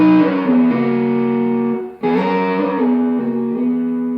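A distorted electric guitar plays a solo in double stops, with sustained two-note phrases that slide and bend and a brief pause before the next run, loud and clear with no talking.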